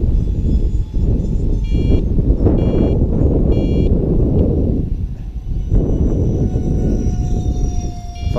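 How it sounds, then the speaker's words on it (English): Several short electronic low-voltage battery warning beeps from a UMX Warthog radio-controlled model plane sound in quick groups over a loud, steady engine whine and wind rumble on a windy day. "My battery's beeping at me"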